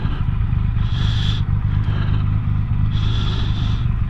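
A Triumph Rocket 3 motorcycle engine runs with a steady, close, low rumble that holds an even level throughout, with no talk.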